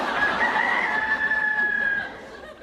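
A chick crows like a rooster in a single loud, sustained crow that rings close and clear before tapering off at the end.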